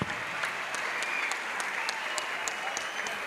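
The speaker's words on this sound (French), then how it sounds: "Acclamons pour le Seigneur Jésus." A church crusade congregation in Douala applauds together, giving dense, sustained clapping from a large crowd, steady and fairly close, lasting the whole moment.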